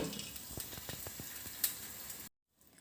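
Potatoes cooking in oil in a covered pan for a potato and brinjal stir-fry give a steady close sizzle with scattered pops and crackles, then cut off abruptly into near silence before a faint hiss returns.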